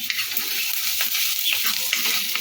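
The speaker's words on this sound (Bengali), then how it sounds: "রসুন আর কাঁচা লঙ্কাটাকে একটুখানি হালকা একটু নেড়ে নেবে" Garlic and green chili frying in butter while being stirred in a pan, a continuous soft sizzle with scraping stir strokes, close and steady, no talk.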